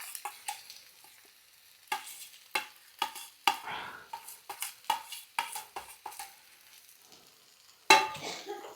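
A mashed potato and beetroot mixture is stirred in a pan, irregular close scraping and tapping strokes of a spoon against the pan, fairly soft and alone.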